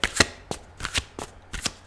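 Tarot cards being shuffled by hand: a series of quick, crisp riffling bursts at an uneven rhythm, close and fairly quiet, with no talking.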